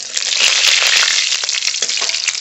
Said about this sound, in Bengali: কালো জিরে ফোড়ন দেব।